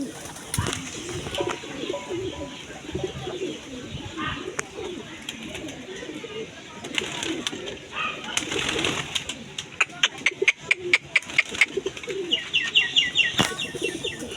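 A flock of pigeons gathered in one spot, with soft cooing and flapping wings that grow busier toward the end, under intermittent speech.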